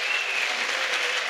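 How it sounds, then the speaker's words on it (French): A church crowd applauding, dense sustained clapping from many hands filling the space evenly, loud and steady with no pauses. "Clap for Jesus Christ."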